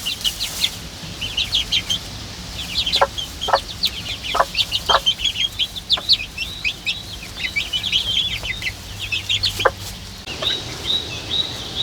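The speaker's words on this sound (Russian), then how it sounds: "Привет, куры." Chickens and a single rooster at a remote forest homestead cluck and chirp in quick, dense bursts, several birds calling close by in an uneven rhythm with sharper calls punctuating the steady clucking.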